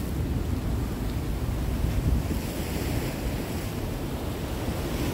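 Rough ocean surf pounds Boa Viagem beach, a steady broadband roar of breaking waves with wind buffeting the microphone, loud and continuous throughout with no voices.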